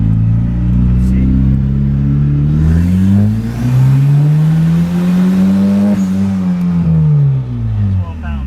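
A turbocharged F23 Honda Accord accelerates hard under boost, its loud engine note climbing steadily and then easing back near the end, recorded close from inside the car.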